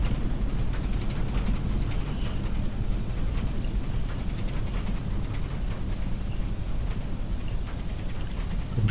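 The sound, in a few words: landing gear rolling on runway, Jodel D112 in FSX/P3D video game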